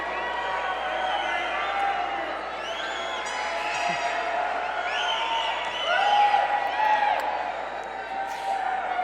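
A large graduation crowd at a high school commencement ceremony applauding and cheering, a dense continuous roar of clapping with scattered whoops and whistles, swelling louder toward the end.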